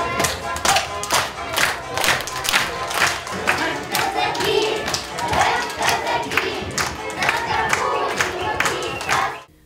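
An audience claps steadily, in rhythm at times, for a children's group in Kuban Cossack costumes singing a folk song at a contest. The applause carries on throughout and ends abruptly.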